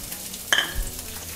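A sliced onion drops into two tablespoons of hot oil for paneer pepper masala, giving one short, sharp sizzling burst against a quiet kitchen background.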